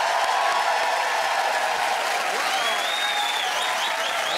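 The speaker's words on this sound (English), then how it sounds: "please make some noise and welcome to the stage" A comedy club audience applauds as a comedian is welcomed to the stage, producing a steady, dense wash of clapping with a few whoops, loud and continuous throughout.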